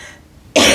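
A single sharp, loud cough bursts out close to the microphone after a stretch of near silence.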